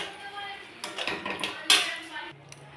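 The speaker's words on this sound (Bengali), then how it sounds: "দিয়ে আমি এবার ভালো করে নেড়ে এটাকে নামিয়ে ফেলব" Spoon scraping and clinking against a pan while coconut potato curry with ghee is stirred, several irregular close metallic knocks and scrapes, fairly quiet.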